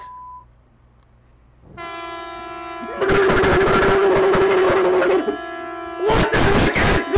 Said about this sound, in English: This sounds like those truck horns!